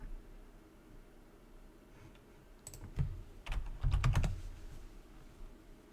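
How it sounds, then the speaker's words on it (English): Fingers type on a computer keyboard, faint sparse taps at first, then a quicker cluster of clicks, close and alone. "Apparently I can't type today."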